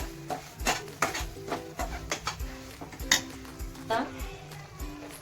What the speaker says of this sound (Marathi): आणि हलवून घेऊया. जास्त मोठी फ्लेम नाही करायची, मंद गॅसवरतीच गरम करून घेणार आहोत रवा.